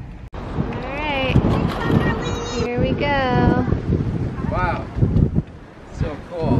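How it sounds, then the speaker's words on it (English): Strong coastal wind buffets the microphone at the sea lion caves lookout on the Oregon-style shore, a loud rushing roar under several people talking, with gusts swelling and dropping throughout. "It is so windy."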